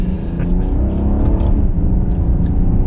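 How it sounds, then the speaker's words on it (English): A 2021 BMW 740i sedan engine accelerates in sport mode, a close, loud, smooth rising hum heard from inside the car with no strong exhaust note. "So we'll just do a small acceleration now. A little bit more engine sound."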